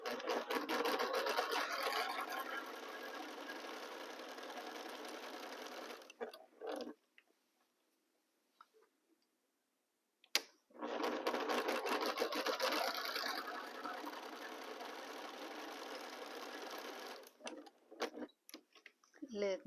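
A sewing machine stitches two 4-inch quilt squares together in two long steady runs of rapid mechanical whirring, separated by a brief quiet pause, with a short final burst at the end.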